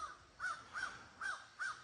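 A crow caws outdoors beside Bass River on Cape Cod at sunrise: four harsh, evenly spaced caws, clear but moderately distant, over quiet ambient air with no talking.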